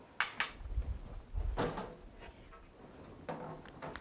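Food dehydrator being opened in a kitchen, a few close plastic clacks and scrapes of trays and lid, short separate knocks with quiet gaps and low handling thumps between.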